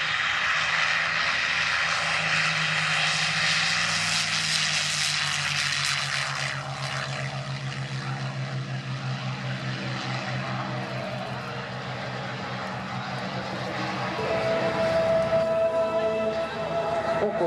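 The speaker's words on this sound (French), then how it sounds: "on va apprécier le bruit de ces deux moteurs sans musique" A Curtiss P-40 Warhawk and a North American TF-51D Mustang fly over together at an air show, their propeller engines making a sustained, steady drone that swells slightly toward the end, with no talk over it.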